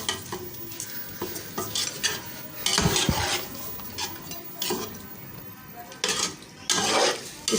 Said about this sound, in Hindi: इसको अब हमने भून लेना है।